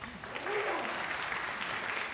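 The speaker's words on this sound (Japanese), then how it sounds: "この回転に合わせてしっかりと手拍子" A pro wrestling crowd at a NOAH match claps along as a wrestler keeps winding his arm before a lariat, a steady, moderately distant wash of hand claps filling the arena, with a brief vocal sound near the start.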